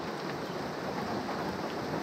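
Heavy rain falls outdoors on a farm where chickens are kept, a dense, steady roar of downpour that fills the whole clip with no voices.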